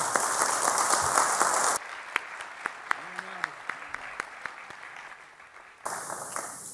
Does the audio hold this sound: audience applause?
yes